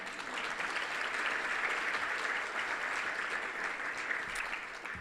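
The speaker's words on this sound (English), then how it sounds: "Commissioner Everardo Ever Villarreal, give him a round of applause." Audience applause at a city State of the City event, steady, dense clapping from a crowd that fills the whole stretch evenly without pause.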